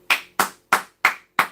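A few loud, evenly spaced hand claps, five sharp slaps in about a second and a half, close and alone with no voices.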